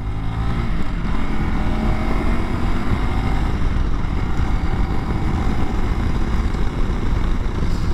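A 2021 Honda CRF300L Rally ABS motorcycle rides along a road, its engine droning steadily under heavy rushing wind noise, loud and continuous throughout.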